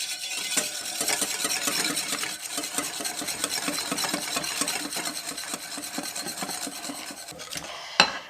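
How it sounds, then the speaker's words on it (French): Eggplant fritter batter is whisked steadily in a bowl as flour goes in, giving a continuous scraping, rasping rhythm of quick strokes, close and alone, ending with a sharp knock against the bowl. "Et on fouette."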